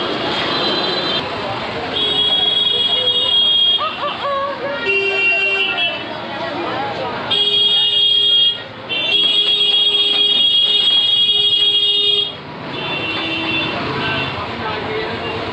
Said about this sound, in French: chaque driver de tuk-tuk, il utilise au minimum 150 fois par jour. Le klaxon